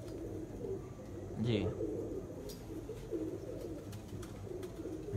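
Pigeons perched on a rooftop coo softly and repeatedly at close range, their low rolling calls sounding over a steady outdoor background while someone speaks briefly.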